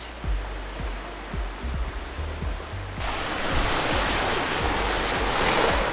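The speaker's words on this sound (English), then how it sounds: "It's a rocky beach." Surf washes over a rocky beach near Chania, Crete, as a steady close rush that swells louder halfway through, with faint low thuds in the first half.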